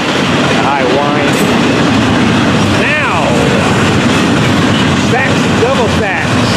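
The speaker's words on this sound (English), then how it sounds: "The 814 howling down to the south. Sounds like a blower, sounds like a turbo." A double-stack freight train passes with its turbocharged diesel locomotive howling southbound in high wind, a loud continuous roar with rising and falling whine tones throughout.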